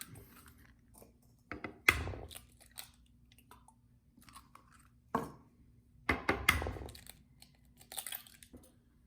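Raw eggs are cracked and dropped into a bowl for a green onion omelette, a few sharp knocks and wet splats with pauses between them, close up and fairly quiet, with no talk.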